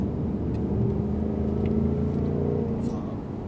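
A Ford Mustang Bullitt on the Lohéac racing circuit, a steady low engine rumble and drone held throughout, fairly loud and close, with no clear speech over it.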